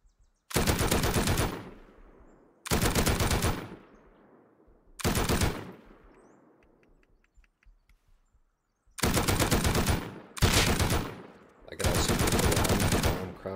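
An M2 machine gun fires in the video game Rust in six loud, sustained bursts of rapid automatic fire, each roughly a second or more long. Longer pauses separate the first three, and the last three come in quick succession.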